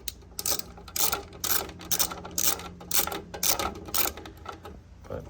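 A ratcheting screwdriver turning a test screw during a PC build, giving a steady series of close, crisp mechanical clicks in rhythmic bursts.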